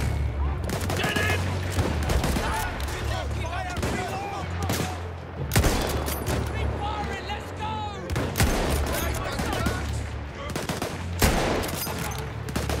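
Dense, continuous gunfire from the World War I shooter Battlefield 1: rapid machine-gun bursts and rifle shots mixed with booms, loud and close throughout, with voices faintly underneath.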